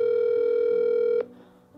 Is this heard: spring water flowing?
no